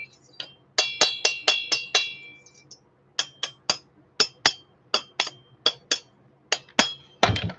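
Sharp metallic taps on a Stihl MS440 chainsaw part to break a seal, bursts of quick ringing clinks in rapid groups, close and clear with no talk.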